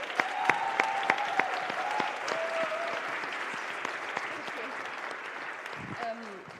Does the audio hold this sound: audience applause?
yes